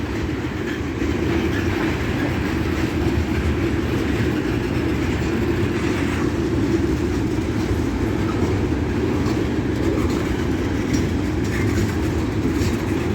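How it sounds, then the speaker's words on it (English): A long train rumbles steadily past at close range at a railroad crossing, its wheels clattering in a continuous heavy drone with occasional metallic squeals. "This is a pretty long train"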